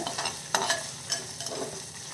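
Ginger, garlic and curry leaves fry in oil over medium flame, a light sizzle with a few quick stirring clicks, close and brief, no voices.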